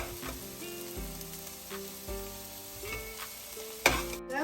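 Millet rice being stirred into sautéed vegetables in a frying pan, with a close sizzle broken by repeated scraping strokes of a spoon and a sharp clatter near the end.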